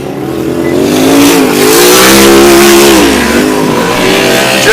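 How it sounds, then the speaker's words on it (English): A two-cylinder Polaris side-by-side racing off-road, a loud, throaty low-pitched engine that rises and falls in pitch as it accelerates close by. "Listen to the Polaris of Dave Hogsma. More throaty, lower pitch. It's only a 2-cylinder"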